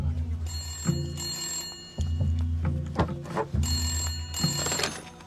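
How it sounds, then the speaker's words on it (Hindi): A high electronic phone ring repeats in two bursts over a low background hum and clatter, fairly loud and close. "विधायक जी का फोन है।"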